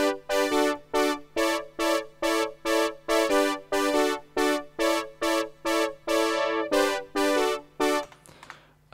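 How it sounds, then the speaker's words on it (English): Punchy analog synth brass stabs in a song-in-progress, a steady run of short, evenly spaced chords with sharp attacks, loud and alone, closing on a longer held chord that fades out. "I'm going to begin with the brass sound that I've showed you"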